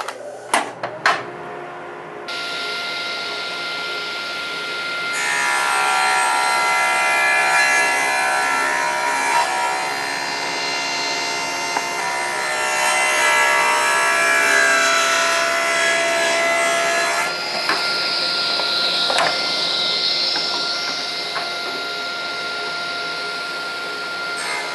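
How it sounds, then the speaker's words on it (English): Table saw ripping wooden strips for a simple clock, the motor spinning up to a steady whine, then a longer rough cutting drone as the board feeds through, easing back to idle and winding down, close and loud. "I'm going to the table saw and we'll cut some strips"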